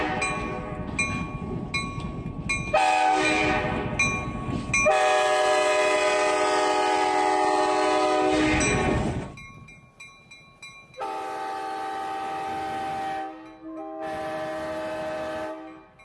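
Conway Scenic Railroad's EMD GP9 diesel locomotive 1751 sounds loud, sustained horn blasts close by, two long ones then shorter blasts after a brief pause, with engine rumble and rail noise underneath.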